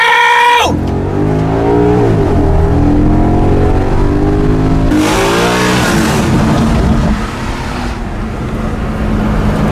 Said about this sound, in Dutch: Voor het geluid van de Maserati!